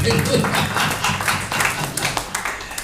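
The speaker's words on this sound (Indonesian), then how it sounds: "Yang percaya tepuk tangan buat Yesus Kristus." A church congregation claps for Jesus Christ during a sermon, a steady broadband patter of many hands across the whole stretch, mixed with voices.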